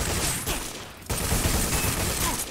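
Video-game gunfire from a G-Unit shooter, continuous loud rapid shooting with a brief drop before the barrage picks up again.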